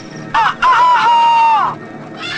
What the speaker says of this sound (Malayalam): ഈ ശബ്ദല്ലേ അതൊരു കോഴിയാണ് സാർ